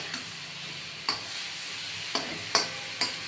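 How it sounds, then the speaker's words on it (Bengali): Cashew nuts fry in a pan with a soft continuous sizzle, and a spoon or spatula scrapes and taps the pan several times at irregular intervals, no talking. "একটু ভেজে নেবেন এরমভাবে"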